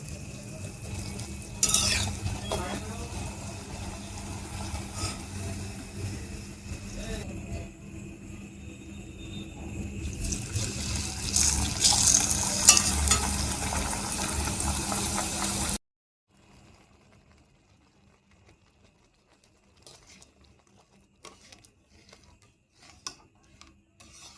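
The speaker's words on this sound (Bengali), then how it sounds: "ভেজে ভেজে রাখছি এখন" Luchi fry in hot oil with a dense, crackling sizzle and occasional ladle clinks, growing louder for about fifteen seconds before cutting off abruptly into near silence with a few faint clicks.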